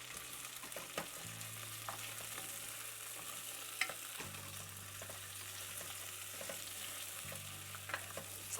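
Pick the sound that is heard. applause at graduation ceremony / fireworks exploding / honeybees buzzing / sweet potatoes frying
sweet potatoes frying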